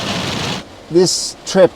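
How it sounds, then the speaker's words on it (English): Heavy rain pours onto a van, a dense steady hiss at first, then a person speaks briefly over the quieter downpour. "Yeah, it's really pouring down."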